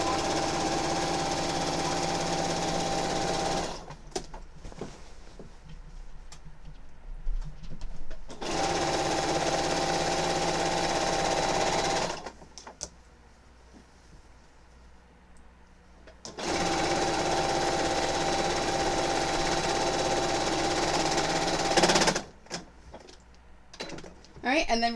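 Sewing machine stitching binding onto a quilt, three long steady runs of fast motor-driven needle chatter separated by pauses with soft handling noise.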